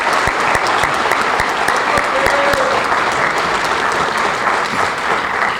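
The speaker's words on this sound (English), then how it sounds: "So to all of our coaches at all the levels, for everything that they do, let's give them a round of applause" A school varsity jacket night audience applauds its coaches at all levels, loud sustained clapping from a large crowd with a few sharper claps standing out.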